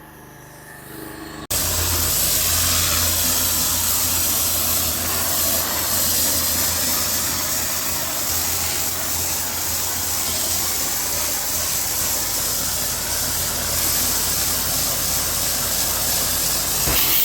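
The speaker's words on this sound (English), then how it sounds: "Look at the power in that turbo nozzle, guys." A pressure washer with a turbo nozzle kicks in after a brief pause and sprays continuously in a loud, steady roaring hiss over an engine hum during outdoor garden cleaning.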